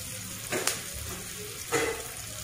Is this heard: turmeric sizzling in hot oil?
yes